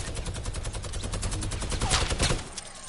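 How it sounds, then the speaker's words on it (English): Rapid minigun fire in a shooter video game, a dense, continuous burst of shots rattling on for nearly three seconds at steady loudness and tailing off near the end. "he wasn't wasting the minigun"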